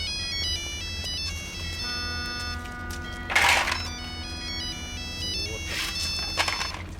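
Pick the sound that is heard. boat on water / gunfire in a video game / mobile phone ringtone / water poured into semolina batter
mobile phone ringtone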